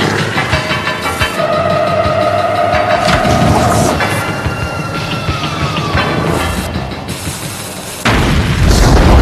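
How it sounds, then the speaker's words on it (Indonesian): A loud, deep boom erupts amid heavy rumbling and clattering, with tonal hums fading in and out before another burst near the end. "Tak berserang lama setelah bom besar meledak"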